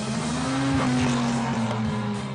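Supercar engine droning steadily as it drives through the streets of Monaco on part of the Formula 1 circuit at the Top Marques show, a continuous nearby hum with a faint tire note, no talk.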